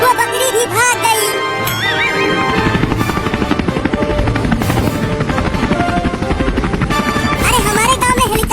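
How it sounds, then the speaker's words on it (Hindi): A helicopter's rapid rotor chop pulses steadily under music, loud and close, with tonal swells and effects over the beating blades. "अरे हमारे गांव में हेलीकॉप्टर"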